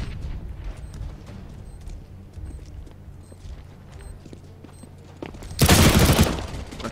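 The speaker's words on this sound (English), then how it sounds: "I'm throwing a flashbang." A flashbang grenade going off in the CS:GO video game: a sudden, loud, broadband burst near the end that follows a quieter stretch of game ambience with small clicks.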